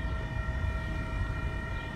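A Union Pacific train rolls through Elmhurst station with a steady, loud rumble and a sustained tonal whine or horn-like hum held throughout.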